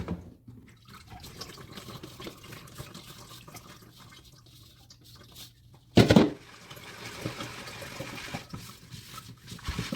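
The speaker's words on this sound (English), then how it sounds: "I'm now going to do a second sieve." Liquid ceramic glaze made from dry powder is poured through a sieve, giving soft trickling and splashing with a brief louder gush partway through, then continued dribbling; no speech.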